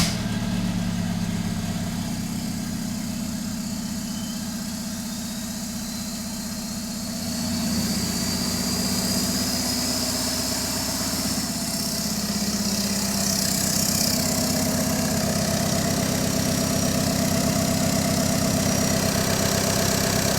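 A Volkswagen Jetta 2L TDI diesel engine idles after a jump start, a steady low rumble with a rhythmic diesel clatter, close and continuous, dipping slightly partway through before settling back to an even idle.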